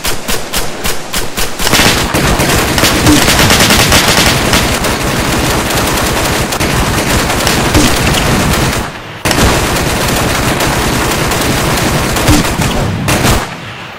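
Sustained automatic gunfire in a video game battle: dense, rapid, loud bursts that run almost without pause, cutting out briefly about two-thirds of the way through before the firing resumes.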